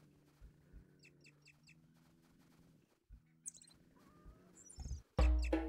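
Chicken clucking in the survival game Sapiens, a few short bird calls scattered over a quiet game backdrop, ending in a sudden loud burst.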